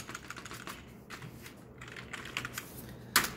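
Quiet, rapid keystrokes on a computer keyboard during data entry, a steady patter of soft clicks with a few sharper taps near the end.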